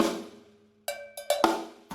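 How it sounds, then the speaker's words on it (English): Sharp hits on a cowbell, a muted stroke, then a crisp snare drum crack, played as a short drum-kit phrase; close, dry and moderately loud, with a faint ringing tone before the first strike. "I'm just going to demonstrate it with a little phrase here on the cowbell."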